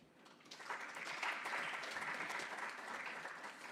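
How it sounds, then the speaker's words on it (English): A warm round of applause for panelists at a high-level East African Community and SADC meeting swells quickly and holds steady, a dense, even clatter of many hands with no speech over it. "We need to give them a befitting round of applause."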